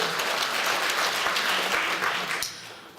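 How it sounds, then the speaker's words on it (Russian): Audience applause at an author's concert in Khakassia, a dense steady wash of many hands clapping that fades toward the end. "Аплодисменты."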